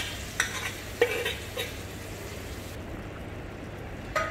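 Marinated chicken stirred in a spiced handi pot, a soft background sizzle with a few brief scraping stirs near the start and another near the end.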